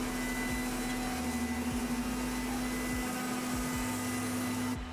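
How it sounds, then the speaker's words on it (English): A vacuum pump pulls a vacuum on a Shelby GT500 transmission pan, giving a steady mechanical drone with a constant hum and faint rhythmic pulsing throughout, moderately loud and uninterrupted. "we're gonna pull a vacuum on it"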